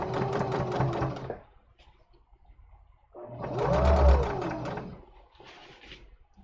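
Two bursts from a free-arm sewing machine stitching a seam, each a close, buzzy mechanical run of about one to two seconds, separated by a brief quiet gap.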